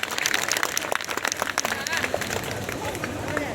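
An audience at a rural BJP political gathering in a village in Sarsawa block, Uttar Pradesh, bursts into scattered clapping and murmuring crowd noise, fairly close, with a voice over a loudspeaker heard among the applause.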